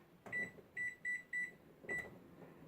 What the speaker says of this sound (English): I set my timer